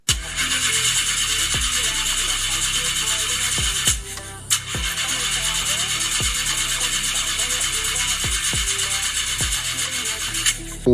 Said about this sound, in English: Chaja, I got to get this engine fixed